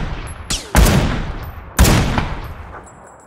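Lynx sniper rifle in PUBG: two loud, heavy shots about a second apart, each with a long echoing decay, plus a fainter earlier crack.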